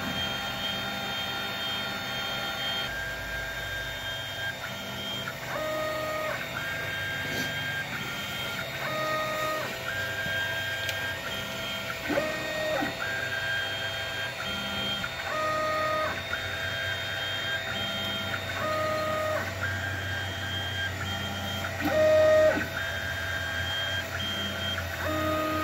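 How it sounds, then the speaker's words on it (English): An Anet AM8 3D printer with a BLV mod runs with its 30 by 30 fan whirring steadily, while stepper motors add shifting tonal whines and beeps, close and continuous, with no speech. "This 30 by 30 fan is what's making the noise"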